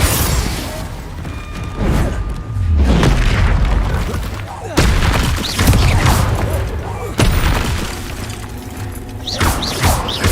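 Confringo spell blasts and combat effects in the video game Hogwarts Legacy, with loud booming impacts and crashes recurring every few seconds amid a busy mix of whooshes and a player shouting spell names.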